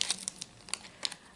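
Soft crinkling of a small plastic bag as vintage costume jewelry, a pair of earrings, is put back inside it; a few light rustling bursts, quiet and close, with no talk.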